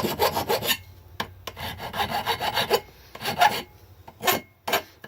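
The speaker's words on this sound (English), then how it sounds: "Always good to do a little file work manually." An unclamped aluminum case is worked with a hand file, giving loud, close rasping strokes in an uneven rhythm with short pauses between passes.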